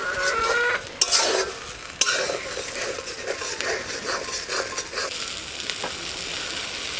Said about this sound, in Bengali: রসুন বাটা, সরিষার তেলে কিরকম গেজা গেজা হয়ে যায়? ফেনা হয়।